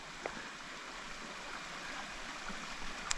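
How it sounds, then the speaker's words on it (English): A flowing creek on the Appalachian Trail, a soft continuous rush of water heard from a distance, faint and steady with no voices. "you can probably hear the creek, the flowing creek"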